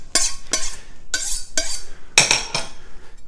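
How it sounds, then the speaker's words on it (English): Knife chopping vegetables on a cutting board for hunter's stew, six sharp crisp cuts in uneven rhythm, close and clear with nothing else around them. "So I'm going to be cutting up some of these veggies to put."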